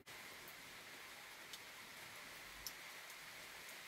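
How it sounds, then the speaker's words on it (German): Steady rain falls during a drought summer, a soft even hiss with a few faint ticks of drops landing nearby; quiet and continuous, no voices. "Ja, es regnet, regnet, regnet,"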